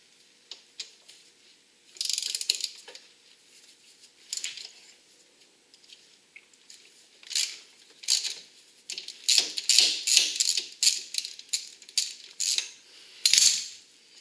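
A ratchet wrench loosening the mounting bolts by the foot peg on a Suzuki LT80 ATV, giving bursts of quick clicking in irregular spurts with short pauses between, close and fairly quiet, no talking.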